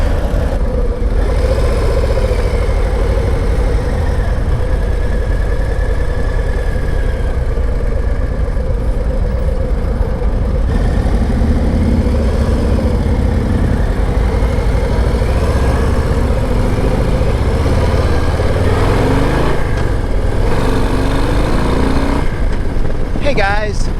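2024 Harley-Davidson Low Rider ST (FXLRST) on a demo ride from a dealership: a continuous, loud engine rumble with gentle pitch changes, under a rider's talk and wind noise.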